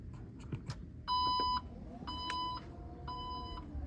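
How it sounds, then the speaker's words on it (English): Three electronic beeps from a Porsche Macan while setting the tailgate opening height, each a short steady tone separated by pauses, over faint background rumble. "hold down the left button so you hear that beep"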